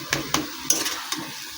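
Jute leaf greens fry in a pan under a soft sizzle, broken by four quick scraping stirs of a utensil against the metal.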